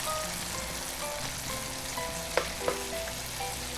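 Marinated pork sizzles steadily in a pan for Filipino pork menudo, a dense continuous fry with a couple of sharp pops and spatters partway through, close and fairly loud with no talk.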